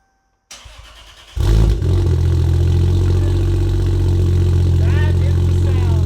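After a short quiet start, an overboosted A80 MK4 Toyota Supra Turbo engine roars to life and settles into a loud, steady, throaty exhaust rumble, with a brief rev near the end.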